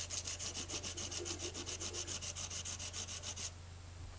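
The lead of a drawing compass is rubbed at a slight angle on sandpaper in a quick, even rhythm of rasping strokes, close and faint, which stop abruptly near the end.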